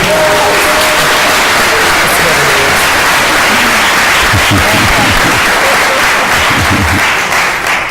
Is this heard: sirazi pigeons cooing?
no